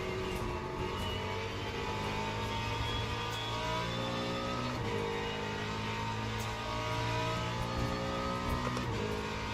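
Corvette race cars in the sim racing game Le Mans Ultimate, in an LMGT3 and LMP2 multiclass event at Sebring, give a steady loud layered engine drone with shifting revs as several cars run through the curves together.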